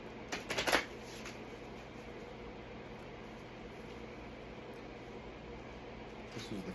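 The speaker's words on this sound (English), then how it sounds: "A little bit bigger cards, much easier to shuffle." Large oracle and divination cards being shuffled by hand, a quick burst of riffling flutter at the start and a brief one near the end, over a steady low room hum.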